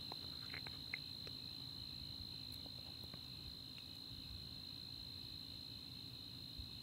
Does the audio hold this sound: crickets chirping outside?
yes